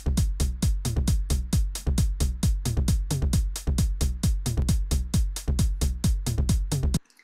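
Roland TR-909 drum machine pattern with hi-hats on straight eighth notes, all at the same volume, over a thumping kick; steady, loud and mechanical, looping for about seven seconds before stopping abruptly, with no voices.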